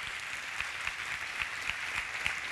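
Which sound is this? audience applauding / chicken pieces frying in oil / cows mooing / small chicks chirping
audience applauding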